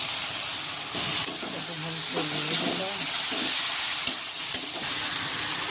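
Tomatoes fry in a pan with onion, garlic and green chilli paste, a close, continuous sizzle and hiss with occasional stirring scrapes, while a person talks over the cooking.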